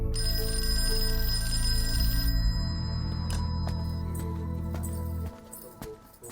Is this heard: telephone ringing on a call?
yes